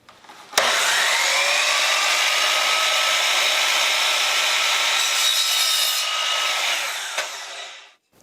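A power saw cuts steadily through a plywood piece for a form's bottom cap, a loud continuous whine after a sharp start, running evenly for several seconds before winding down and stopping.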